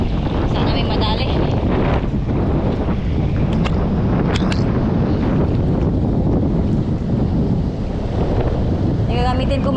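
Strong northeast monsoon wind buffets the microphone on a fishing boat, a loud, continuous roar with gusting rumble and water noise, while someone talks faintly underneath.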